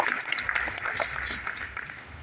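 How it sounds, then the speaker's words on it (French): Audience at a book launch celebrating twenty years of coupé-décalé applauding steadily, a dense wash of hand claps filling the room throughout, with no single clap standing out. "je vais vous demander qu'on s'applaudisse tous"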